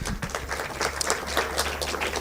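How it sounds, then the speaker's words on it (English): Audience applause at a graduation ceremony for an accelerator and incubator programme, a steady wash of many hands clapping for a partner organisation, fairly loud and sustained throughout. "A round of applause to Ike's"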